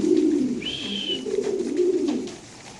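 Almond fantail pigeons coo close by in low, soft, rolling phrases, repeated over about three seconds, with a faint high chirp in between.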